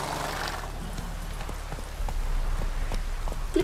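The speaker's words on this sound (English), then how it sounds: "Clip clop, clip clop." Steady clip-clop of a horse's hooves in the video game The Witcher III, a rhythmic trot over low ambient game noise, evenly paced and moderately close, with no talking.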